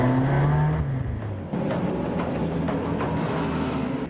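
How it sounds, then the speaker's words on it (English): GT race cars roll off at the start of a desert endurance race in Dubai, a loud steady wash of engine and road noise that swells after a brief dip and holds throughout. "Ian and Heike look on from inside the pit as the cars are about to get rolling"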